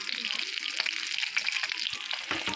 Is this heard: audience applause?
no